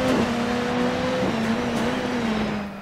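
Ford Focus rallycross car in the DiRT 4 racing game holding a steady, droning engine note as it reaccelerates, with a pitch drop at a gear change before the revs climb again and then fade slightly.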